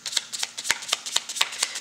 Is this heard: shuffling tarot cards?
yes